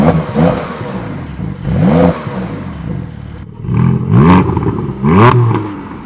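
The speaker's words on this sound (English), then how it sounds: "I did a really quick comparison of the two exhausts" A Porsche sports car exhaust revs repeatedly, each rise and fall a loud, raspy blip of the engine, five or so bursts separated by brief idles.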